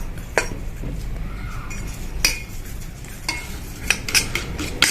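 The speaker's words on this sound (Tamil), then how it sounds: "எல்லாத்தையும் சேர்த்து கலந்துட்டு இதுக்குள்ள தண்ணி ஊற்றி மிக்ஸ் பண்ணுவோம்." Utensils clink and scrape against a bowl while flour batter for mung bean paniyaram is mixed with water, with irregular sharp taps over a steady background hiss.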